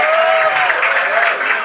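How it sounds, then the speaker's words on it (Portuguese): Crowd applause at a Rio party, greeting the Grande Rio samba school drum section, a dense steady wash of clapping with a faint whistle-like tone over it, loud and continuous for under two seconds. "uma salva de palmas"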